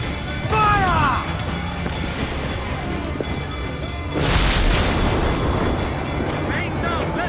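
Ship cannon fire in Assassin's Creed IV Black Flag lands as a heavy rumbling boom partway through, amid wind, sea ambience and shouting crew voices.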